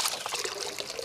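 Water pours and trickles steadily while mud is rinsed off freshly caught fish outdoors in the countryside, a close, continuous splashing stream with no talking.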